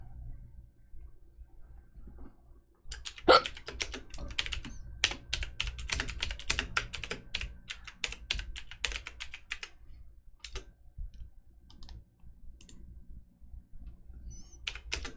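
Fingers type on a computer keyboard while writing notes, quiet at first, then a steady flurry of close, soft key clicks with brief pauses, no talking.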